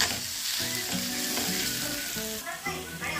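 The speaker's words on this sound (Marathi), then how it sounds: "आता हे तापलं की आपण हिरवी मिरची, लसूण आणि वाटाण्याची पेस्ट टाकूया, गॅस बारीक करूया आणि हे चांगलं परतून घेऊया" Green chili, garlic and pea paste crackle and sizzle loudly in hot oil while being stirred, with short bursts of spoon scraping, close and continuous with no speech.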